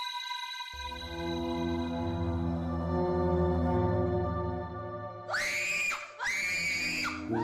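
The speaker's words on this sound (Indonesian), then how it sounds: "Ada suara teriak-teriak." Students at a school campsite screaming at night, heard as a few high, wavering wails in the last seconds, rising over a steady droning tone that runs throughout and stays faint overall.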